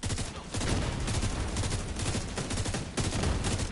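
Dense gunfire in the video game The Division 2, with rapid overlapping bursts of automatic fire and shotgun-like blasts that are loud and nearly continuous, with a short dip at the start and a brief gap before the final burst.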